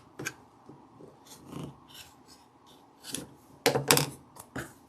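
A rotary cutter and ruler trim fabric half-square triangles for a quilt block, giving soft, quiet scrapes and taps in irregular short bursts with near silence between.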